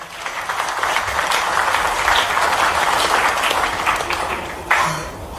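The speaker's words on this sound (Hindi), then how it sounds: "शुभ शुभ के लिए ताली बजा दें" An audience of investors in a meeting hall with Chief Minister Mohan Yadav breaks into applause, a steady moderately loud wash of many hands clapping that holds evenly for several seconds before a few final claps.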